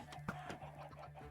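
Chickens in the Minecraft video game cluck in a quick, uneven series of short, fairly faint pecking calls, with no voices over them.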